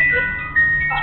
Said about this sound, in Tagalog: may tumunog na musical figurine